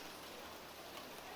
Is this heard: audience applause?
no